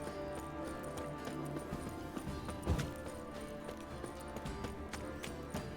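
Horse hooves galloping in The Witcher 3, a steady clip-clop rhythm under game music and ambience, with a thud partway through.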